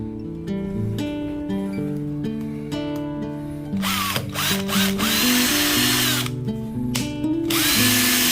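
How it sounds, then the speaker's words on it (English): Cordless power drill driving supports into a wall beside an IKEA Knoxhult sink cupboard, a steady whining motor with pitch shifts and several louder bursts of biting into the wall, close and continuous. "I'm going to be drilling some supports into the wall so that the cupboard, is secure."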